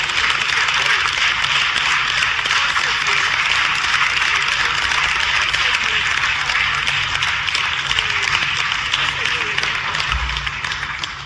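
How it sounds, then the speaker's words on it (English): Loud, sustained audience applause at a political speech, dense continuous clapping filling the room for over ten seconds and easing slightly at the end. "I would like us to give a loud round of applause"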